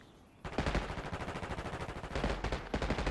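Rapid automatic gunfire from a Black Ops 6 Kill Order match, with a fast steady rhythm of close, punchy shots running nearly continuously after a brief quiet start, pausing briefly before resuming.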